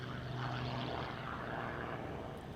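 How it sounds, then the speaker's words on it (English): Matt Hall's MXSR race plane, flown in the Red Bull Air Race from 2009 to 2016, at the RAAF Edinburgh Airshow, giving a steady loud propeller engine drone that holds throughout with no voices. "He's flying his old MXSR race plane"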